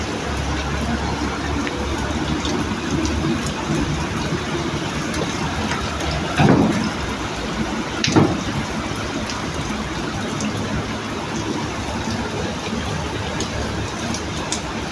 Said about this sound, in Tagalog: Unang ulan ng April.